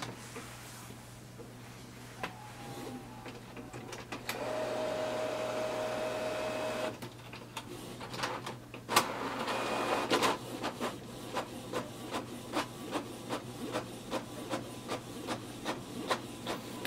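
A Canon TS6360 wireless inkjet printer runs a print job up close: low motor hum, a steady whir of paper feeding, then a long series of rhythmic mechanical clicks and ticks as the carriage moves.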